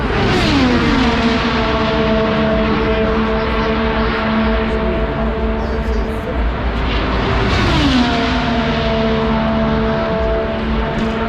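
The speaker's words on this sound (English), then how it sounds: "I can feel it in my chest when these cars go by." Indy 500 race cars roar past on Carb Day at the Indianapolis Motor Speedway, loud high-revving engines rising and falling in pitch as two passes sweep by close to the track.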